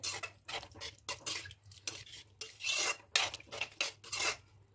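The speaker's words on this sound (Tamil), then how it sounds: "நல்லா கலக்கி விடுங்க" A spoon scrapes and clinks around a metal cooking pot, stirring food in quick repeated strokes, close and fairly loud with short pauses between.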